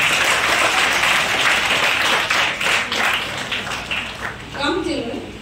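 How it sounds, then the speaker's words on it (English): School audience applauding children at a leaders' investiture ceremony, a loud, steady wash of many hands clapping throughout, with a voice briefly heard near the end. "Clap for these kids."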